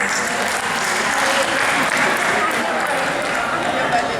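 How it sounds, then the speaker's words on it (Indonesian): Steady, loud applause from a seminar audience at a Hari Santri gathering fills the room without a break, a dense wash of clapping hands with voices faintly mixed in. "kita berikan aplaus ini"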